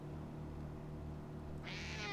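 A single cat meows in the Amazing Frog video game, one short cry near the end over a low, steady hum of game background sound.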